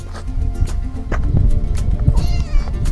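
Stray cats meowing outdoors amid a busy, noisy background during wartime shelling, with a few short cries standing out near the listener.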